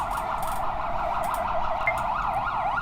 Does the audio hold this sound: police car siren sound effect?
yes